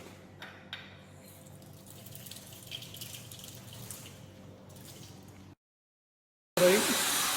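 Running water rinsing an etched aluminium alloy sample in a lab, a soft continuous tap-like flow that stops abruptly, followed by a short silence and a sudden loud burst of noise.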